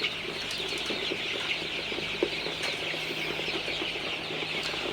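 Young Sonali super hybrid chicks in a farm shed at night, a steady chorus of soft, dense chirping and peeping with occasional clucks and light wing flutters, close and continuous.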